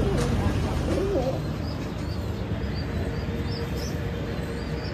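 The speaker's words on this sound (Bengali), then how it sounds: "ছাদের পুর কবুতর পালন, যেখানে কিছু কবুতর রোদে দেওয়া আছে।" Pigeons on a sunny rooftop pigeon farm coo softly amid constant ambient noise, a few low warbling calls standing out early before fading into a steady outdoor hum.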